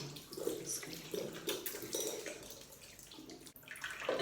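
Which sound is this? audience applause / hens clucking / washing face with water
washing face with water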